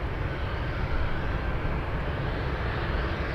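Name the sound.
Atlas Air Boeing 747 cargo plane arriving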